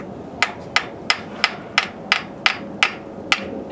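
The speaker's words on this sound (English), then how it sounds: "You take a little hammer, and you're just gonna tap it" A small hammer taps metal on a 400-ton chiller slide valve during a piston replacement, ten sharp, evenly spaced clinks close to the microphone over a faint mechanical hum.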